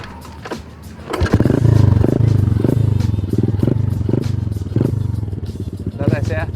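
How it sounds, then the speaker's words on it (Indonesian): A Honda Supra X125 underbone motorcycle is ridden on a motocross track; its engine runs loud and close with a rhythmic, pulsing throttle and rising revs, over a steady low rumble. "sekarang gua akan test ride motor ini."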